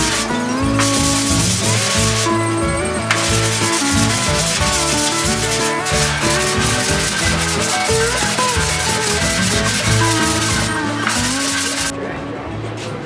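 A long sanding block is worked over epoxy primer on a truck hood, making loud, continuous scraping strokes up close, with a person talking over the sanding throughout.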